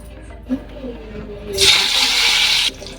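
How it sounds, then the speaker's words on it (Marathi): Curry leaves dropped into hot oil in a Marathi home kitchen, while preparing a spicy lemon surmai fish dish, burst into a loud, hissing sizzle lasting about a second, after a couple of faint clinks. "आता आपण याच्यामध्ये कढीपत्ता सोडूया"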